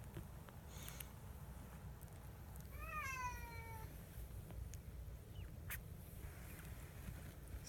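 A ten-day-old kitten from an Egyptian litter gives a single thin, rising-then-falling meow midway through, faint against a quiet rustling background, with a few soft clicks around it and no talking.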